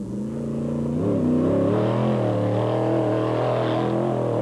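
Limited-class Chevy truck accelerating off the start line at a desert off-road race, its engine note climbing loud and close through several rising revs before holding a steady, strong roar.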